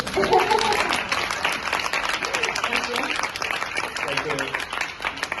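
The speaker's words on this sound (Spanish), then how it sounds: "Para aplaudir." Audience applause at a Spanish book presentation, steady clapping from a room of people lasting several seconds, with voices mixed in over the clapping.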